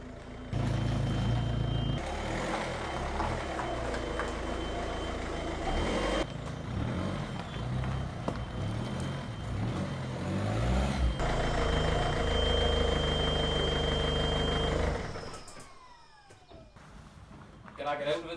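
A project car's engine runs loudly and continuously as the car is driven back into a garage, with a reversing beep or cat-like squeal over the rumble before the engine cuts off near the end.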